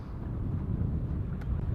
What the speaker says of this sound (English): And it's also very, very windy.